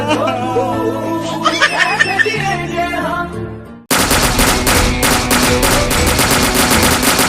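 Rapid automatic gunfire bursts out loudly and continuously in a Bangladesh–India border comedy skit, following a stretch of laughter and music-like voices.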